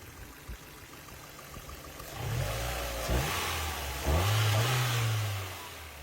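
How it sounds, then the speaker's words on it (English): Stock-exhaust Mazda NB Miata engine close by, idling low then blipped twice, with a rising rev near the middle and a longer held rev toward the end before settling back. "the NB Miata stock exhaust sounds the best of all four generations"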